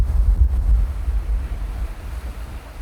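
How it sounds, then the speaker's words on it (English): Ocean waves on a sailboat at sea, rough and building, a low rolling surge and wash with wind buffeting the microphone, swelling and easing over a few seconds. "And the waves just keep getting bigger and bigger."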